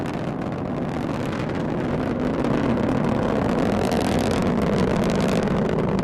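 Delta IV Heavy rocket engines roar during launch as a steady, dense, rumbling wall of noise, distant yet powerful and unbroken throughout.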